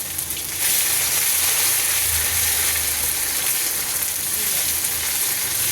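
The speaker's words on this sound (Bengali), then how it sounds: "এবার কিন্তু আমি আদাটা তেলের মধ্যে দিয়ে দিলাম" Ginger hits very hot oil already holding bay leaves in a pan, setting off a loud, steady frying sizzle that jumps up sharply in the first second and keeps going, close and unbroken, with no talking.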